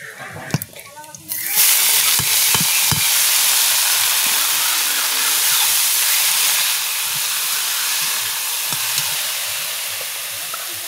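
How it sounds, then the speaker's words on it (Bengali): Greens drop into hot oil with chilli and garlic tempering, bursting into a loud, sustained hiss that stays steady and close, with brief talk and clicks just before the sizzle starts. "এরকম লঙ্কা আর রসুন ফোড়ন দিয়ে নিলাম শাকটা ভাজার জন্যে"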